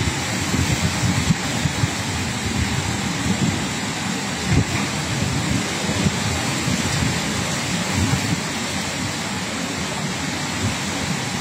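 Heavy rain from Super Typhoon Uwan pours down in a dense, unbroken roar, with steady broadband hiss and low rumbling throughout.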